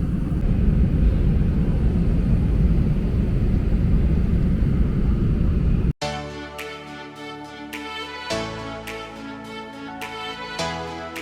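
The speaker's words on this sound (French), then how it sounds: "là on est dans l'avion et on va bientôt décoller" An airplane cabin waits before takeoff on a flight to Toronto, filled with a loud, steady low rumble of engines and ventilation for about six seconds before it cuts abruptly to music.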